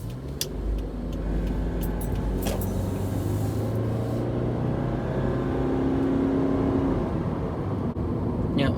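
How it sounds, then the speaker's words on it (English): A car accelerating with a noisy, droning engine tone that climbs steadily, heard close from inside over a steady road rumble. "one of my least favorite parts about this car is that when you go to accelerate, it makes a lot of noise"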